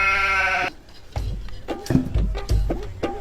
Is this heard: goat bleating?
yes